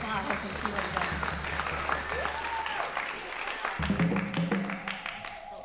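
Applause for a bassist at a jazz and blues camp masterclass, a continuous wash of clapping layered with voices and a few sustained musical tones in the background.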